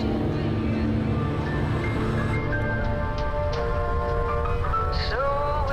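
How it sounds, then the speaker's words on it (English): Steady rain pours down in a horror short film, a dense, constant hiss that fills the scene beneath faint tonal sounds and no clear speech. "You're chilling with the homies and it starts to rain, bro."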